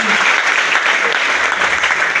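Loud, dense applause fills a church as the congregation claps for Jesus during a worship service, a sustained close roar of many hands with crowd murmur mixed in.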